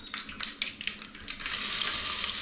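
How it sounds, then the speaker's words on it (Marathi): Tempering sizzles in a pressure cooker as dal is prepared, first in short crackling bursts and then as a steady loud hiss close by. "कुकरामध्ये फोडणीला दिलं आहे, डाळ बनवून घेतो आहे"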